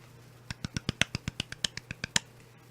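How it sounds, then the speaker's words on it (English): Hands clap very fast, about fourteen sharp, crisp claps in a quick, fairly even burst lasting around two seconds, close and alone without talking. "I was just clapping really fast."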